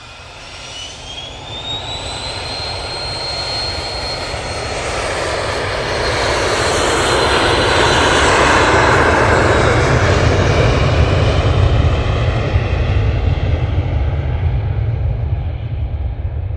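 Pilatus PC-24 business jet arriving at Manchester Airport from Shannon, a steady jet roar with a rising whine that builds from moderate to loud and stays strong, close by and alone.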